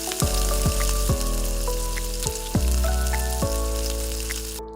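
Small pieces of cabbage manchurian frying in hot oil, a continuous sizzle close by, with repeated low thumps and faint clinks of handling running throughout.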